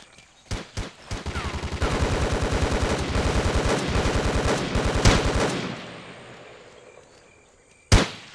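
Gunfire in the video game Ghost Recon: a few sharp single shots, then a long, loud, rapid automatic burst that fades into a rumbling tail, followed by one more close shot.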